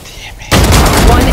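Loud turret gunfire erupts abruptly in the Valorant video game, a dense, close burst of rapid fire that fills the rest of the moment, after a quieter stretch at the start.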